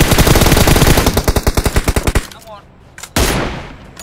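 Loud machine-gun style automatic fire in the battle royale game PUBG Mobile: a dense stream of shots that loosens into distinct rapid reports, a brief lull, then another burst.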